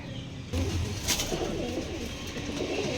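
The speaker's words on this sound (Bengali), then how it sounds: "এগুলো খুব সুন্দর বড় সাইজের কবুতর" Low, throaty cooing of large Rajshahi Giribaj pigeons, repeated in soft rolling phrases against a steady background hum.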